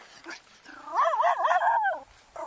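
A dog whines and yelps in rising and falling cries during a tense detention over a trail violation, loudest in the middle and trailing off, with background noise around it.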